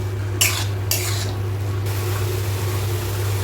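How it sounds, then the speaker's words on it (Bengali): A spoon scrapes and stirs boiled moringa flowers frying with spices in a pan, two quick bursts of scraping near the start over a low steady sizzle. "ভালো করে একটু ভেজে নিতে হবে।"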